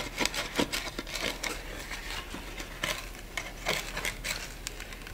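Gorilla survival knife, a D2 Silverback, cutting through a half-inch-thick piece of soft wood, making steady rhythmic rasping strokes, close and fairly loud, with no talking.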